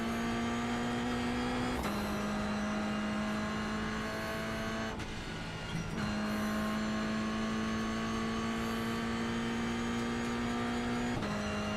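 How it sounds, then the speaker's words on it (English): An F4 race car with a straight-cut gear transmission accelerating on a track at Virginia International, heard from inside: a loud, steady high whine climbing through the gears, with brief dips at each shift. "The straight cut gear transmissions always have such a nice noise."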